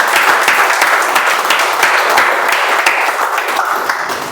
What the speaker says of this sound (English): a big round of applause for our TTM.